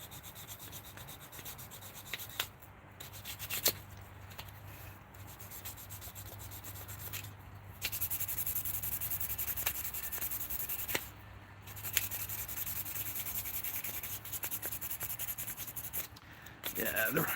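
Hand sanding runs in long rubbing strokes with brief pauses and occasional sharp clicks, close and fairly quiet, with faint talk at times.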